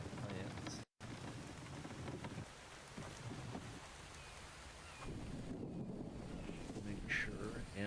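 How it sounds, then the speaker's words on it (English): Steady rain pours in a fishing video game, a dense, even hiss with a brief dropout near the start and a faint rumble of thunder, a voice talking quietly over it. "Good, more rain."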